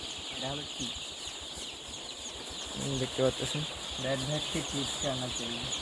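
Two-day-old chicks on a poultry farm cluck and chirp in short repeated bursts close by, with a steady hiss in the background and a person speaking over them.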